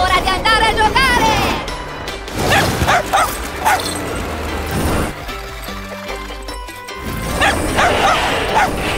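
A cartoon dog barks and yips repeatedly over busy animated-show music and sound effects, the barks loud and close in rapid clusters.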